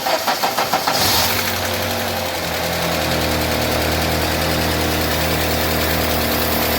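A UAZ Patriot engine cranks with a few rhythmic starter pulses, then catches and settles into a steady idle while its cold hydraulic lifters clatter loudly and continuously.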